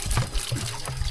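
Cool water is scooped and poured with a gourd ladle in a traditional Ta-oy village in Laos, giving short close splashes and trickles that come in quick bursts.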